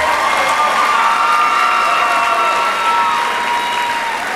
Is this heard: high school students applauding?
yes